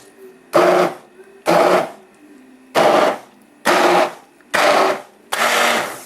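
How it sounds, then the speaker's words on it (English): A turbo hand blender runs in six loud, roughly one-second bursts with short pauses between, blending thick leek and potato soup in a pot, close by and with no voices. "The turbo has a little bit more power to it, so I tend to literally blend it like this."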